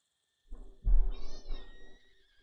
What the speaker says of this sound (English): Kitten says goodbye.